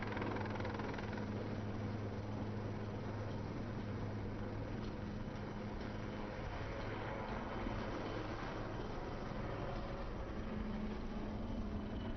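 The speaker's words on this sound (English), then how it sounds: "you can now see flying in from your right is a Sea King helicopter" A Sea King helicopter flies past at a naval display, a steady, rumbling engine drone throughout, with a low thrumming hum that stays constant and fairly distant.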